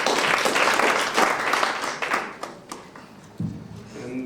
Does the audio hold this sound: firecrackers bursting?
no